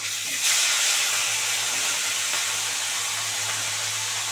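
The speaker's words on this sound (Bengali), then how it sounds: "ভালো করে কড়া করে মাছটা ভেজে নিচ্ছি" A rohu fish head frying crisp in hot oil, a loud, dense, continuous close sizzle and hiss that holds steady throughout with no talking.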